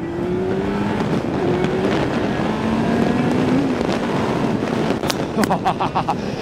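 A motorcycle rides on the road, its engine note rising steadily as it accelerates under continuous wind rush, with a voice talking over the sound.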